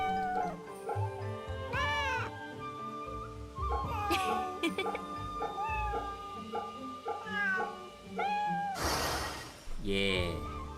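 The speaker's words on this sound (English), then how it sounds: "Pet the kitty." Cat meowing repeatedly while being petted in the video game Fate/Samurai Remnant, bright rising and falling mews spaced through the stretch with music and a sharp burst of noise near the end.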